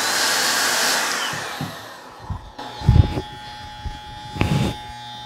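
Hair dryer-style air blower clearing cut hair off Andis Masters clippers during a service, a steady loud rushing whoosh that fades partway, followed by a few soft knocks and handling bumps.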